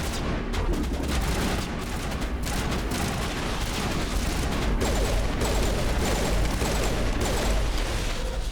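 Rapid gunfire crackles in the sci-fi shooter Mass Effect, dense overlapping shots and mechanical clatter forming a constant loud fusillade with no pause.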